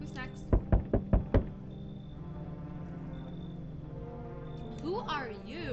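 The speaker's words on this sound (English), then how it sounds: "Stop banging on my door like that." Knocking on a door in the video game No, I'm not a Human: four sharp, evenly spaced raps close by, followed by a low hum and faint electronic tones.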